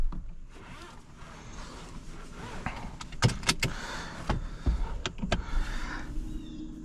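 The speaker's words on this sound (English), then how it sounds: "Window switches are in the middle, that way if the doors are off you can roll the windows up and down." Power windows on a 2024 Jeep Wrangler Rubicon 4xe hardtop whir up and down, several motor runs punctuated by sharp clicks and thumps as the glass stops, heard close inside the cabin.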